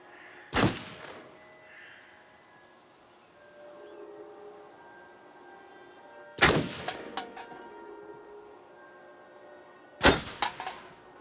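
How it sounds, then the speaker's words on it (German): Gunshots at a shooting range in the video game Until Dawn: three sharp, loud single shots spaced several seconds apart, each followed by a brief metallic ringing tail, with no talking. "Wow, guter Schuss, Sheriff."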